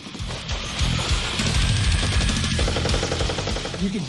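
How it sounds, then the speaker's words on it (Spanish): Rapid bursts of automatic gunfire from intense fighting as the Kurdish army climbs a mountain, loud, dense, crackling volleys close together. "Se oían los disparos y se veía el resplandor de las ráfagas impactando alrededor."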